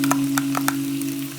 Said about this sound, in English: Then I'm going to add the tomato ketchup, add the chili sauce, add the soya sauce.